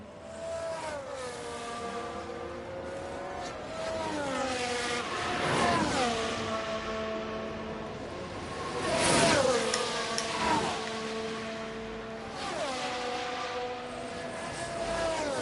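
Formula 1 cars in F1 Manager 23 at Monza pull into the pits together. Several engine whines overlap, sliding down and back up in pitch as the cars slow and accelerate, with a few louder sweeps passing close.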